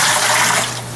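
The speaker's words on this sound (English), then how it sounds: "pour it into the bucket and you can get some idea" Cloudy, dirty water from a fish tank pours into a bucket, a loud, steady rush of splashing liquid lasting about a second with no talk over it.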